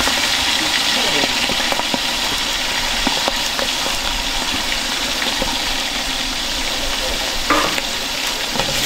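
Spice masala sizzles and fries in a pan for Dindigul chicken biryani. A continuous loud hiss goes on throughout, broken by occasional stirring scrapes and clinks.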